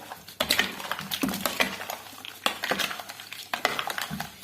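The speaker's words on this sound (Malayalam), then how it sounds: "നന്നായിട്ട് മിക്സ് ചെയ്യാം." A spoon clinks and scrapes repeatedly against the inside of a glass, stirring watermelon milk sarbath in quick, irregular bursts, close by with no voices.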